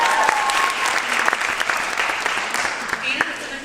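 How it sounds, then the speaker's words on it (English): Audience applause fills a high school theater after a stage performance, steady dense clapping from a sizable crowd throughout, with a few brighter claps and faint voices mixed in. "You can clap for Ren and Aina now"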